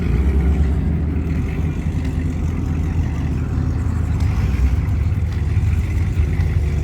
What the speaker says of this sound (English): See if both tires spin.